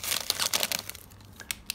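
A plastic bag around a Brita water filter cartridge crinkles and rustles in quick bursts at close range as it is pulled open, then fades to a few scattered crackles.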